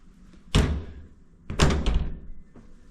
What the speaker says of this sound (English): the door pulls shut behind me.